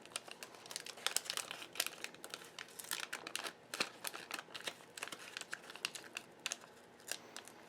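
Wax packs of 1977–1989 Topps baseball cards being torn open by hand, a dense run of close crinkling and ripping wrapper noise with sharp bursts, no talking.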